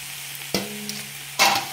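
Grated coconut goes into a pan of frying agathi flower poriyal, and two sharp stirring scrapes rise briefly over a quiet, low sizzle.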